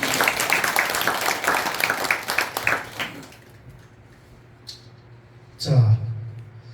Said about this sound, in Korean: 이분들에게 우리 전체로 큰 박수 한번 부탁드립니다